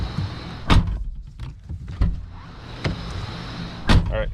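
Car door handle and lock mechanism operated several times on a vehicle being checked for a wire coming out of the glass, giving sharp close clicks and thunks at intervals with a faint motor-like whir between them.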